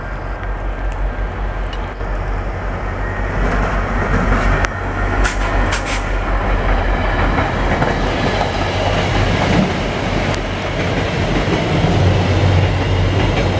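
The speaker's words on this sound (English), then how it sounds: "that diesel sounds good" A VIA Rail diesel passenger train rumbles past close by in Montreal, its diesel engine droning under a rhythmic clickety-clack of wheels, with occasional metallic squeals.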